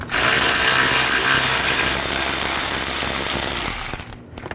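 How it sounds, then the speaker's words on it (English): A ratchet fitted with a 15mm socket works bolts loose on a 2010-16 Buick LaCrosse during a front CV axle job, a loud close continuous mechanical whirring that fades and cuts off near the end. "to take these two bolts out, use a 15mm socket"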